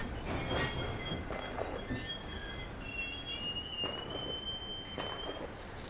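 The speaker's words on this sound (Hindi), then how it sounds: "यहाँ पे हमारी ट्रेन रुकने वाली है" Dibrugarh Rajdhani Express slowing toward an unscheduled halt at Pratapgarh station, heard from inside a second AC coach near the rear: steady rolling rumble with high, drawn-out wheel squeals and brake screeches repeating throughout.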